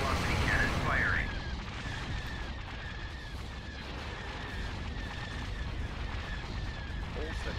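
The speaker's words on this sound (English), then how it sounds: "Hypervelocity cannon firing." Hypervelocity cannon fire in a space battle in the Star Wars game mod Thrawn's Revenge: a dense, continuous booming rumble with a brief whistling sweep at the start, loud and sustained throughout.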